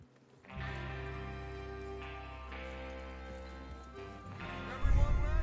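Hoofbeats of horses in the Western video game Red Dead Redemption 2, a steady rhythmic clip-clop under a sustained musical drone, with a louder rumble of movement near the end.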